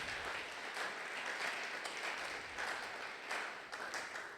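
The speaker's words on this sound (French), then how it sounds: "Est-ce que tu peux acclamer très fort pour la gloire de Jésus? Acclame encore très fort, acclame très fort." A church congregation at a Sunday thanksgiving worship service applauds loudly and continuously, a dense steady wash of many hands clapping with no break throughout.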